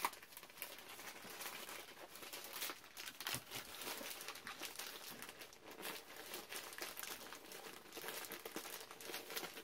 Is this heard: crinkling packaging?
yes